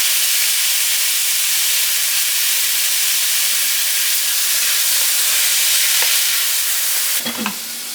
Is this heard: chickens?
no